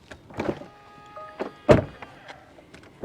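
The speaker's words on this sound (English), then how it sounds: "let's do a quick door sound check" A 2026 Tesla Model Y car door swings shut with a solid thump, preceded by softer handling clicks and rustles, then faint mechanical ticks afterward.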